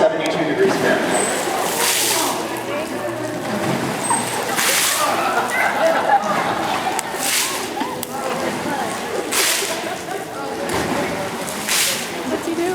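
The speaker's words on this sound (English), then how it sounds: "What's he doing? It's splashing." A dolphin in an aquarium exhibit splashes saltwater repeatedly in bursts roughly every two to three seconds, while people talk and murmur nearby throughout.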